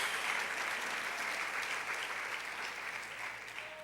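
Steady, dense applause from a large church congregation, loud and sustained throughout, with no voices standing out.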